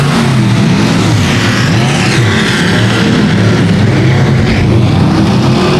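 Race cars roar around a dirt speedway oval in the closing laps, a loud steady engine drone with pitch sweeps as cars accelerate through the turns, continuous throughout with no voices.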